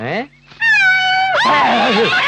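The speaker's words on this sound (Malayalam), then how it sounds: "പൂച്ച" A cat meows in a scene from the Malayalam film Kaliyoonjal. One clear, drawn-out meow comes right after a short cry, and loud talking follows close behind it.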